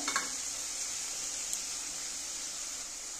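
Spice masala of salt, turmeric and Kashmiri chilli powder sizzling steadily in hot oil for a boal fish curry, a constant close hiss with a few faint stirring scrapes near the start.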